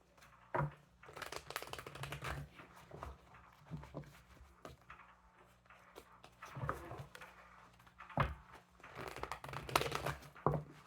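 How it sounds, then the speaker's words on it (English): Tarot cards are shuffled in repeated bursts of riffling and slapping, close and crisp, with soft rustling between the rounds. "We'll do 2 more shuffles."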